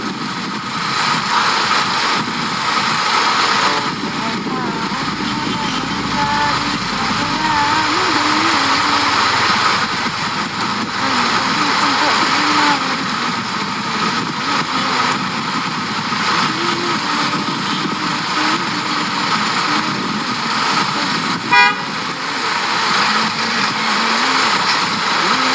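Holiday homecoming traffic jam with a constant loud drone of idling car and motorcycle engines up close, steady throughout with a single short sharp accent near the end and no clear horn blasts.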